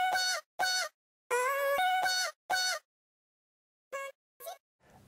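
A vocal chop layer sliced in Fruity Slicer, pitched all the way up, gives short squeaky bursts in a choppy rhythm of on-off stabs with gaps, some notes bending, a few quieter fragments near the end.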